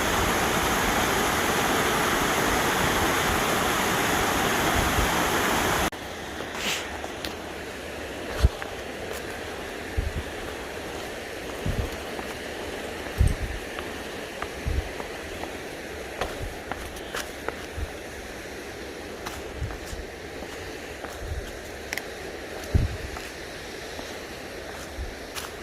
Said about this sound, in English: A little series of cascades going back up the hill there.